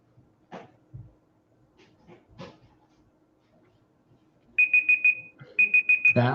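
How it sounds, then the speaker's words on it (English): Kitchen timer alarm going off, two rapid bursts of loud repeated electronic beeps after a stretch of quiet room sounds and small bumps, close and prominent. "That would be the timer."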